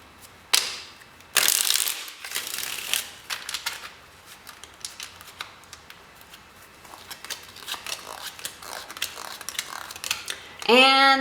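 Tarot cards are shuffled by hand, with bursts of riffling and shuffling near the start and softer rustling flicks throughout, ending in a quick ruffle of cards.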